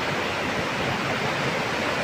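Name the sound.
waterfall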